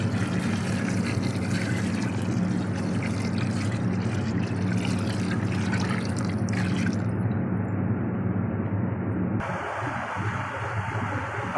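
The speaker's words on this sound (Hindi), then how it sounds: "अब वो यखनी ऐड कर रहे हैं हम।" Strained beef yakhni stock pours into a cooking pot for rice pulao, making a steady, close, continuous splashing and gurgling that runs unbroken, then drops to quieter pot sounds near the end.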